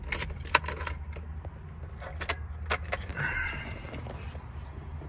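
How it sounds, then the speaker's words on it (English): Car keys jangle close up as they are fitted into a car's ignition, with scattered metallic clinks and rattles and a few sharper knocks, while faint vehicle noise sits in the background. "just throw your keys in, make sure it works"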